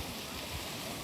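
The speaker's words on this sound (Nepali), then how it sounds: "यहाँ चाहिँ पुरै यस्तो फल्स छिटा पाउँदो रहेछ पुरा पानी उम्लेर" Hot water heated by underground heat boils up and gushes over small falls, making a continuous soft rushing wash that stays faint and even, with no voices.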